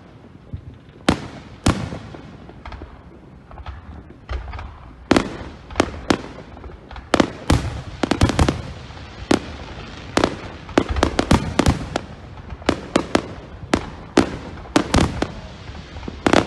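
Fourth of July fireworks of the falling, shooting kind go off outdoors as a long run of loud, sharp cracks and bangs, some isolated and others in rapid clusters.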